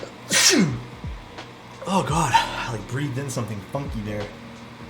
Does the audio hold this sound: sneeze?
yes